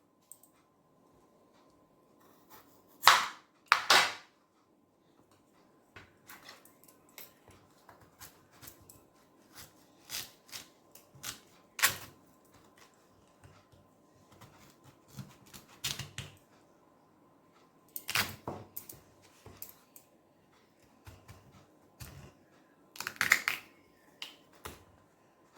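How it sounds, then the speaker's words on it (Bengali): Peeled potatoes are cut with a knife on a board in a home kitchen, giving sharp, irregular taps and clicks, close and isolated, with quiet gaps between strokes. "এবার এইগুলোকে একটু কেটে নেব, খুব বেশি কুচো করার দরকার নেই।"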